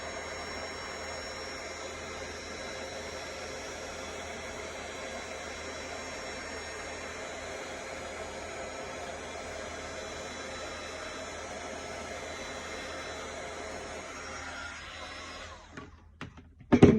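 Embossing heat tool blowing hot air onto clear embossing powder in a cramped crafting space, a steady hair-dryer-like whoosh and whine held for several seconds before it cuts off with a few clicks at the end.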